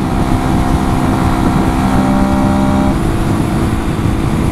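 A 125cc motorcycle engine drones steadily at high, constant revs in sixth gear, loud and close, with road rumble underneath.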